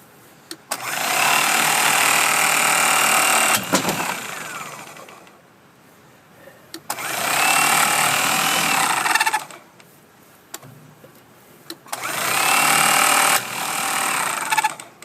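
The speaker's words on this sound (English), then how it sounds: "I start to the edge of where I want to trim." A Mighty C power tool trimming along an edge, running in three long loud buzzing bursts of a few seconds each, separated by quiet pauses, close by.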